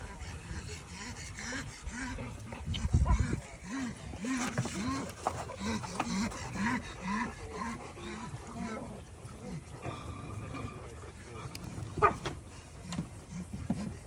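Farm dogs growling, whimpering and barking on and off, with a sharp outburst early on and another near the end, while people talk nearby.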